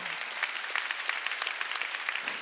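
Congregation at a Sunday church service breaking into brief applause, a short burst of rapid clapping that sounds fairly distant and soft, fading out after a couple of seconds.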